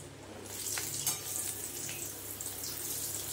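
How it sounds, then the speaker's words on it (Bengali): Cut pointed gourd (potol) frying in oil, a continuous bright hiss and crackle with a few faint spatters and clinks, steady and close at a low level, with no talking. "এবার ভেজে নেব কেটে রাখা পটলগুলো"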